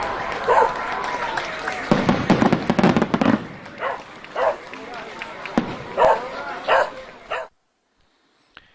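A string of sharp fireworks bangs and crackles bursts in quick succession, loud and close, with scattered pops continuing before stopping abruptly.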